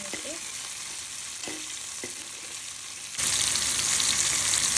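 Curry leaves and green chillies crackle and fry in hot oil for a Madurai-style fish curry, a steady close sizzle with a few sharp pops early on, then a sudden louder, hissier surge of frying near the end.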